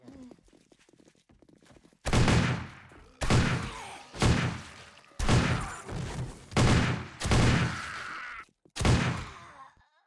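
Gunfire from the video game 7 Days to Die as a player shoots zombies, heard as several loud, sharp bursts of shots in quick succession after a quiet start.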